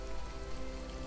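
Steady rain patters continuously on surfaces in the video game Skyrim, a soft, even drizzle with no voices.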